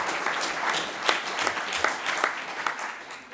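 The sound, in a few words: audience applause for Jan van Aken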